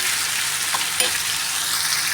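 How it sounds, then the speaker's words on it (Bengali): Chicken leg pieces frying in a pan, a loud, steady close sizzle of hot oil with a brief clink near the middle. "এরপর আমি একে একে লেগ পিসগুলো উল্টে পাল্টে একবার ভেজে নেব।"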